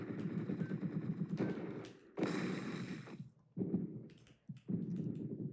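Bursts of rapid automatic gunfire from the video game Entry Point rattle loudly in several sustained volleys separated by brief pauses, with clicky mechanical sounds between them.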